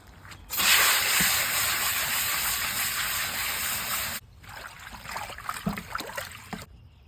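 Tap water gushes in a steady, loud hissing stream while turnip greens are washed, then cuts off and gives way to softer splashing and handling of the wet greens in a bowl.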